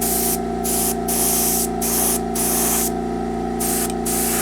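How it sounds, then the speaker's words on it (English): An airbrush sprays paint in a steady hiss over a constant hum of a compressor, the spray cutting in and out in several bursts of varying length, close and loud with no voices. "I want to test the airbrush."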